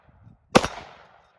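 A single shot from a Cetme Model L rifle in 5.56 NATO, one sharp crack followed by a short fading echo outdoors.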